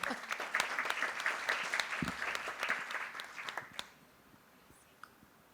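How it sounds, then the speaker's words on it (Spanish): Applause for Lola and company at an energy and renewables meeting, a modest room of people clapping for nearly four seconds before it stops abruptly, leaving near quiet with a stray clap. "Y un aplauso para Lola y compañía si van a frenar esto."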